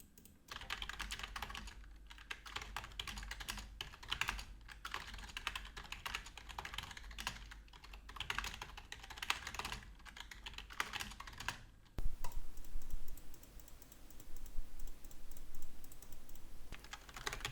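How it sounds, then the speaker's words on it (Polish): Rapid computer keyboard typing clatters steadily for a long stretch, then shifts to a sparser, harder tapping and mouse clicking, recorded close and fairly quiet. "Myszka użyta, klawiatura użyta."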